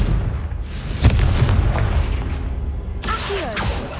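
A Confringo blasting spell detonates in Hogwarts Legacy, a sharp booming explosion followed by rumbling debris, with a second burst of magical crackle near the end.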